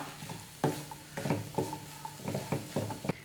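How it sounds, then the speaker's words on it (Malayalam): A street-style green peas and egg stir fry being mixed in a pan, repeated scraping and tapping strokes of a spoon against the pan over a soft sizzle, close and rhythmic without speech. "അതിനുശേഷം ഇത് നമുക്ക് നന്നായിട്ടൊന്ന് മിക്സ് ചെയ്ത് കൊടുക്കാം"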